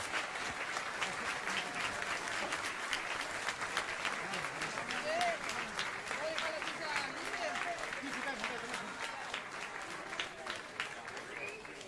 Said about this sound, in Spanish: Fuerte el aplauso para los tres, por favor.